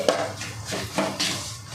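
A utensil scrapes and knocks against a pan in a few uneven strokes, stirring a thick gongura pickle mixture on a low flame, with no one talking.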